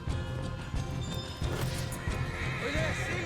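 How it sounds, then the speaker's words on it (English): Horses in the Red Dead Redemption II video game whinny and snort amid hoof clatter and rustling, a busy close mix over rough outdoor ambience with a brief high neigh near the end. "come on, we'll take those horses."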